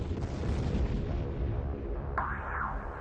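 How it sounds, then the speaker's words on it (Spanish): A deep, sustained rumbling explosion from the Pentagon attack, a loud roaring blast that swells and rolls on for several seconds with debris-like noise, heard alone. "hubo explosiones múltiples"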